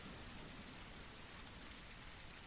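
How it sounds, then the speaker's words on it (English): Steady rain falls as a weather effect in a Middle-earth VR game, a dense, even hiss of drops with no voices. "The rain's starting to go away."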